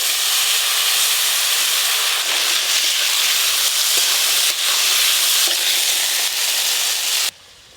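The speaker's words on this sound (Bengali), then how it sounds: "ওই একই তেলে আলু আর কচুগুলো একটু ভালো করে ভেজে নেব।" Potatoes and taro fry in the same oil just used for hilsa fish heads, giving a loud, steady, close sizzle and hiss that runs unbroken for about seven seconds before cutting off abruptly.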